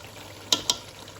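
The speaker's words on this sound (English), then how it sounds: "Give it a stir." Cauliflower and meat curry with cumin powder stirred in a pot, two quick scraping strokes of a spoon close by over a faint steady sizzle.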